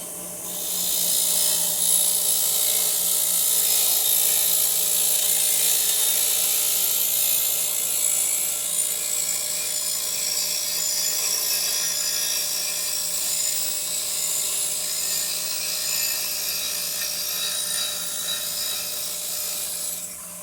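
A bench grinder runs continuously, giving a loud, steady high-pitched whine and abrasive hiss with a constant low hum underneath, nearby and without talk.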